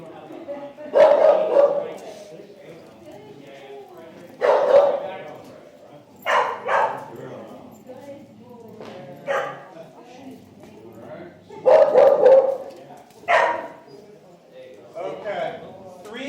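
Dogs bark in short bursts during an obedience class, several sharp yips and barks scattered among pauses, with an instructor talking between them.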